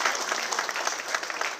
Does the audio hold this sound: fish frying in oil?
no